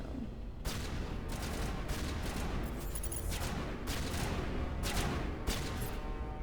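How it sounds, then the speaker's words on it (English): Gunfire in the video game Mass Effect Legendary Edition, a series of rapid shots and bursts over a steady rumbling battle background, moderately loud and without speech. "They're just shooting"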